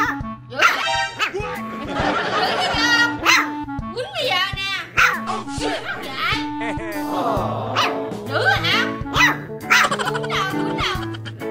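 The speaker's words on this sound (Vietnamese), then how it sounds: "Chú chó con lần đầu tiên biết sủa đã cãi tay đôi với con sen." A puppy barks in short, sharp yaps, apparently for the first time, as if answering back to its owner. The barks come under steady talk and laughter throughout.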